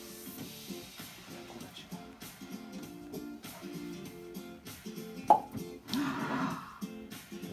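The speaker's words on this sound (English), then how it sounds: "Opened a bottle of wine with the coat hanger from the bedroom." A cork pulled from a wine bottle using a bent coat hanger, with one sharp pop near the middle and a short rustling burst after it, all over a faint background hum.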